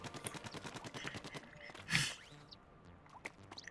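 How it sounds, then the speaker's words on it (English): Rapid bursts of ink fire from a weapon in the Splatoon video game, a fast run of sharp, evenly spaced pops with a louder splashy hit partway through, then scattered softer splats over a game-music bed. "Shoot ink to reveal entrances to the Octarian lair"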